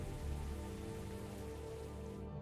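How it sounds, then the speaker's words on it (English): Steady rain falls with gusting wind shaking nearby brush, a continuous close wash of drops and rustling at an even, moderate level with no voices. "The sound of the windy brush with the rain"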